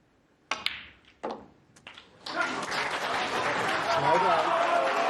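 A snooker crowd at the World Snooker Championship breaks into applause during a maximum 147 break, starting with a few sharp isolated claps that swell into sustained, dense applause filling the arena.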